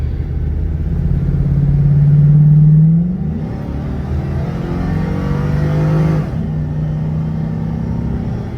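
An all-wheel drive LS-swapped street truck accelerating, its engine rumbling loud and close as the revs climb, drop after a shift, build again and settle into a steady drone.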